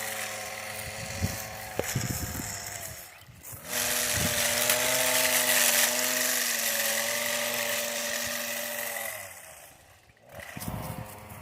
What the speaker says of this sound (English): over there trimming those hedges in the front